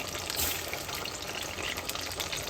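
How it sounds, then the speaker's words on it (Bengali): Salted potatoes fry in hot refined oil with a close, dense crackling sizzle that holds steady with small pops. "লবণ মাখিয়ে, সন্দব লবণ মাখিয়ে আলুগুলো আমি গরম তেলেতে ছেড়ে দিলাম।"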